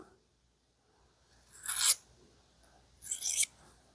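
A vintage Keen Kutter pocket knife is drawn across a coarse stone, two separate gritty rasping strokes, each about half a second, close and fairly quiet with short gaps of near silence.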